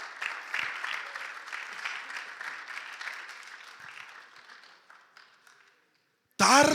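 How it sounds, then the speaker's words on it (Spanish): Church congregation applauding for the Lord, a dense steady clapping that slowly thins and fades out, followed by a sudden loud burst of voices or music at the end. "Dale un aplauso al Señor."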